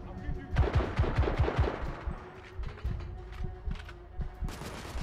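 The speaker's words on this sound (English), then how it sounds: "I think it's just a guy with a machine gun, isn't it? It's an actual turret." Turret machine-gun fire in The Order 1886 video game, bursts of rapid mechanical clattering shots, loudest in the first second and then recurring more faintly, over game background noise.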